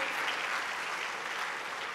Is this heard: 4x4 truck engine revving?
no